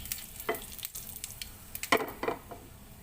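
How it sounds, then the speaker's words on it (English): Tadka of curry leaves, spices and asafoetida sizzles and crackles in hot oil for Indian sambar, with scattered pops, spatters and stirring scrapes close by. "and our asafoetida. This is what we call in India tadka."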